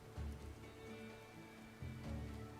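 Rain patters faintly inside a barn in Farmer's Dynasty, a soft continuous hiss with two brief low thumps, quiet and with no voices.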